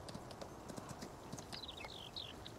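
Horse hooves clip-clop in Farming Simulator 19 on a cow farm, a run of soft, fairly quick steady steps with thin bird-like chirps above them near the end, heard alone at a low level.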